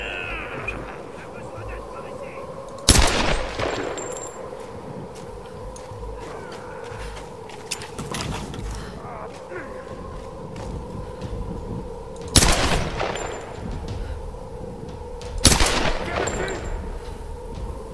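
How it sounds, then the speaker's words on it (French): Gunfire in a video game shootout, a few loud separate blasts and bursts spaced seconds apart over a steady background hum, with a voice talking in between. "je te tire dessus, je vais pas te laisser me tirer dessus"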